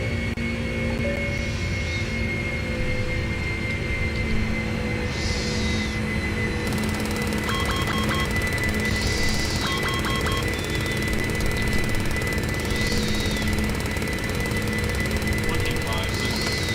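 A heavily loaded Boeing 747 climbing out after a short takeoff roll, heard from inside as a steady, loud engine roar with a droning hum, while cockpit voices and periodic chimes sound over it throughout.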